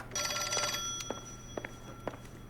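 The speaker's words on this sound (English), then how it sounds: "Who's on the phone trying to talk to me?" A telephone rings in a video game, one loud ringing burst followed by several short clicks and knocks over a low steady background hum.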